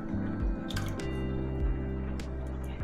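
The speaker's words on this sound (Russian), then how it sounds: "В соус для капусты я налью немного уксуса." Vinegar, a Chinese 5% type, poured into a sauce for stir-fried cabbage, giving soft dripping and splashing liquid sounds over a steady background hum for a few seconds.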